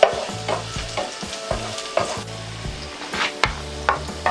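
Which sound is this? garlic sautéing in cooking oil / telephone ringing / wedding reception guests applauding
garlic sautéing in cooking oil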